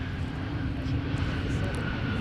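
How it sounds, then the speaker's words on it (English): A Rolls-Royce Trent 7000 jet engine on Delta 298 spooling up at Minneapolis–Saint Paul airport, a steady broad rumble with a low droning tone that holds evenly throughout, heard from a distance without any speech. "That rumble was one of the Trent 7000 engines spooling up on Delta 298"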